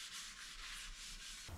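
Steady abrasive scrubbing on a curbed alloy car wheel being cleaned after sanding and before body filler goes on, a continuous close hissing rub with no talk, ending abruptly.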